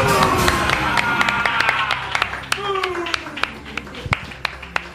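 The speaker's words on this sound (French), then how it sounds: "On peut l'applaudir." Scattered claps from a small audience come in sharp, irregular bursts, mixed with people talking over them.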